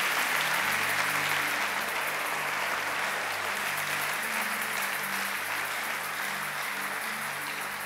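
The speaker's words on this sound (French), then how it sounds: "Est-ce qu'on peut acclamer pour la parole de Dieu?" A church congregation claps loudly and continuously for the whole stretch, a dense, steady wash of applause that thins only slightly toward the end.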